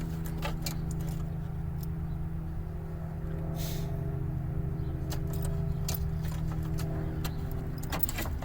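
Keys jangle in a few short metallic bursts as they come off a key ring beside an idling 1984-89 Toyota Van Wagon, its steady engine hum continuing underneath.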